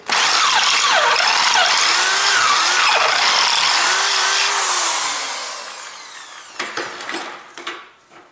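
A Makita 18V power drill with a 15 mm bit whines loudly and steadily, its pitch rising and dipping as it bores out metal wheel bolts, then tapers off into a few short bursts and clanks.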